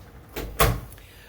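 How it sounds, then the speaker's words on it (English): An interior door swings shut with a soft whoosh followed by a brief closing thud, close by and alone in a quiet room. "Just close the door."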